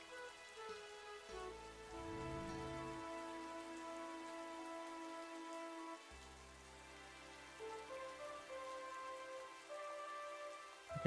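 Faint, steady rainfall ambience from Old School RuneScape, a soft hiss of drops blended under gentle in-game music and low tones, with no voices.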